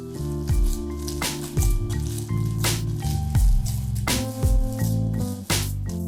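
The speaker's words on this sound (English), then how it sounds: "add another 30 milliliters of oil and continue kneading until all oil is absorbed" Oiled bread dough for cheese rolls being kneaded by hand, giving close, wet squishes and slaps in a steady repeating rhythm with no talking.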